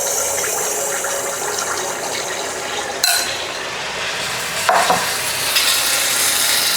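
Appam batter for Karthigai Deepam is poured into hot oil in a pan, a constant loud crackling sizzle with sudden sharper bursts as each ladleful hits the oil.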